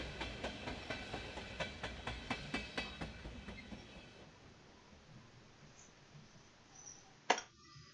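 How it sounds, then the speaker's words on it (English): A train's wheels clack in a regular rhythm that gradually spaces out and fades as it slows into a station, ending with a sharp metallic clunk. "train slows down once again and pulls into a station like the ones before it"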